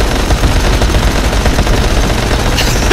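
Dense, rapid gunfire in the video game Dying Light: The Following rattles almost without pause, loud and close, with bursts overlapping into a continuous clatter of shots.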